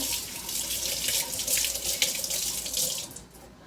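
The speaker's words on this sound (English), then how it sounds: "I'm gonna rinse my hands" Water pours from a kitchen tap while hands are rinsed during enchilada preparation, a loud, steady splashing rush into the sink with small fluctuations as hands move through the stream, tapering off at the end.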